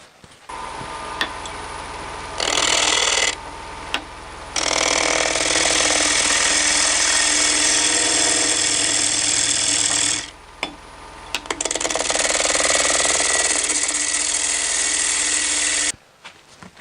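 A wooden bowl or vase is hollowed out on a lathe: a loud, rough cutting roar comes in long bursts, broken by brief pauses as the tool lifts away, then starts again. No voices.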